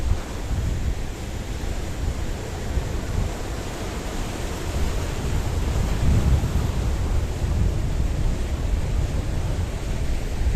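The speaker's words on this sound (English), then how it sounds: "I want to show you those waves again." Waves at Paphos harbour on a very windy evening: a continuous, loud wash of surf mixed with heavy wind buffeting the microphone, steady throughout with no speech.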